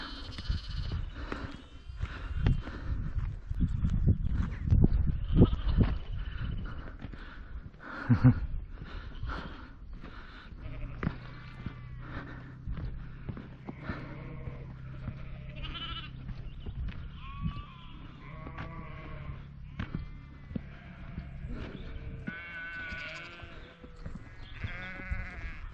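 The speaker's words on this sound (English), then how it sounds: "It's lambing season at the moment, guys. A baby lamb's about." Young lambs bleating in a field during lambing season on a Cumbrian trail, repeated plaintive calls from several animals at varied distances, some near and some farther off, over an outdoor background.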